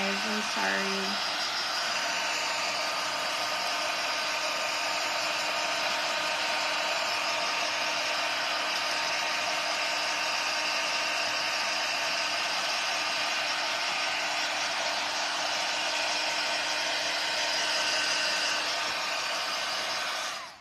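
A hair dryer dries paint on a craft banner, a loud steady whir running unbroken nearly the whole time after a few faint taps at the start.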